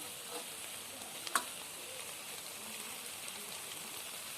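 Eggplant and fish head frying in a pan, a steady close sizzle with a brief sharp crackle as pieces shift, hissing evenly throughout.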